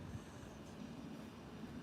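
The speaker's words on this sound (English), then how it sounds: "I just thought I'd bring you a few trains this evening" Faint rail noise at Doncaster railway station: a low, steady rumble of trains with a continuous broadband wash, distant and quiet, with no clear voices.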